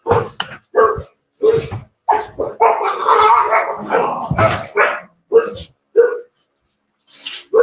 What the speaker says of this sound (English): You're agitating our guard dogs.